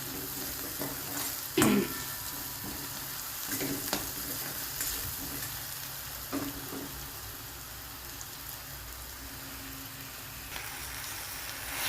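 Roasted brinjal (eggplant) mash for bharit sautéing in a pan, a steady soft sizzle with a few sharper stirring scrapes, fairly quiet and close, with no talking.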